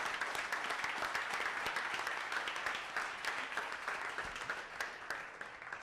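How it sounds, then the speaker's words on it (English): Sustained audience applause for an events and creative team at a FreightTech innovation competition in Chattanooga, a dense, steady wash of many hands clapping that fades slightly toward the end. "Let's give them a round of applause for their weekend."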